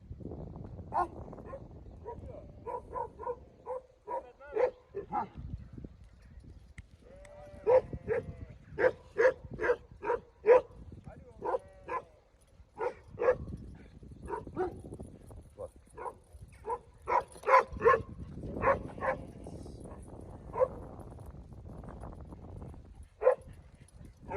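A puppy barks and yips in rapid, repeated bursts nearby, with whimpers between, while people talk in the background.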